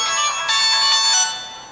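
A phone ringtone sounds loudly and close in a furniture showroom, a bright electronic melody that steps up in level midway and then fades out, with no one speaking.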